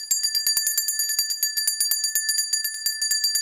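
A bright bell rings in a rapid, even run of strokes, loud and close, with no talk over it.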